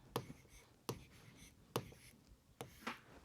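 A marker or chalk writes a price on a classroom board in short, crisp scratchy strokes, about five distinct strokes spaced unevenly, faint and close, with no talk.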